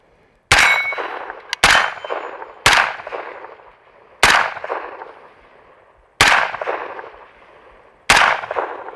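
Six loud, sharp 9mm gunshots from a KP9 fitted with its stock muzzle brake ring out one at a time, each with a short ringing decay, spaced about a second or more apart.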